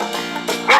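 Over light game music, a cartoon dog from a children's farm animal stacking game lets out a couple of short, bright yips, the last one loudest.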